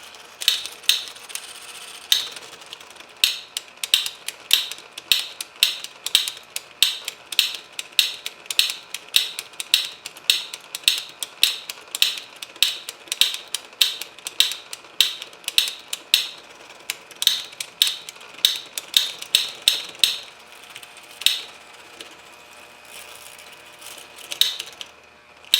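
Drive gear mechanism of a James Bond tin toy car, fitted with a filed replacement gear, running as a long train of sharp, rapid mechanical clicks and ratcheting ticks, close and fairly even, with brief pauses.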